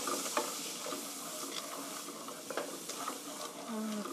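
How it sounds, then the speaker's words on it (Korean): Milk is stirred into a cream sauce for boiled potatoes, a soft bubbling hiss with light intermittent scrapes and clinks of a utensil in the pan, close and fairly quiet. "우유 200ml 컵으로 한 컵 넣어서 이렇게 저어주시고요"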